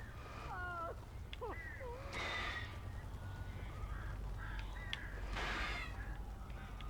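Crows caw repeatedly in Alan Wake Remastered, harsh bird calls arriving in short bursts of several cries over a low, constant ambient drone, with a couple of louder squawks near the end.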